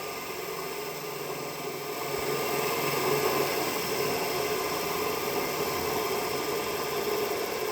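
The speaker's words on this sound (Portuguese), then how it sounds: "O motor está bem devagarzinho agora" A DC motor in a lab runs with a steady whirring hum while armature resistance is raised to slow it; the tone stays fairly constant, getting slightly louder partway through, and nobody speaks.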